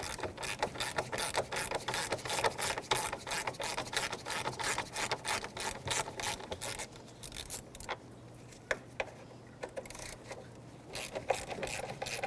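A ratchet fitted with a 10mm socket backs out the radiator shroud bolts on a Nissan, giving rapid, crisp clicking in repeated bursts with brief pauses between them. It is close and clear, with no talking.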